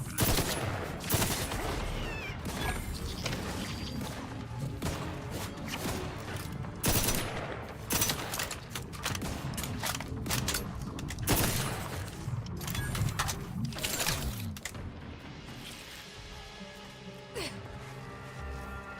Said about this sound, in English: they're only shooting 3 bullets at a time